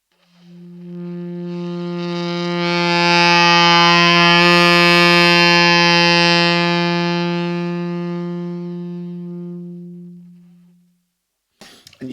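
A single long saxophone note swells in, holds steady, then gradually fades away to nothing, followed by a brief faint noise.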